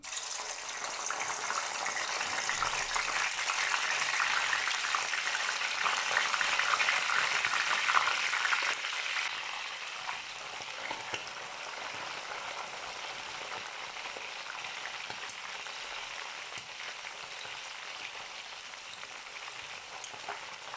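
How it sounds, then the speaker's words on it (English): Steady, dense sizzling of gizzard frying in a hot pan, loud and continuous, easing slightly partway through, with no talking. "so I'll start frying my gizzard now."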